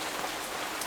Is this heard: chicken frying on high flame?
no